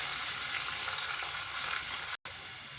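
Finely chopped onion and green chilli pieces fry in a pan, a steady, quiet hiss of sizzling oil that continues without pause apart from a momentary dropout near the end.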